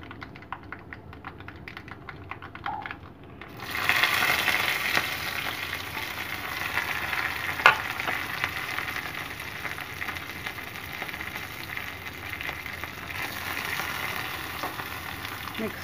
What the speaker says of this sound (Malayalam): ഇതിന് നമുക്ക് നല്ലപോലെ ഫ്രൈ ചെയ്തെടുക്കണം.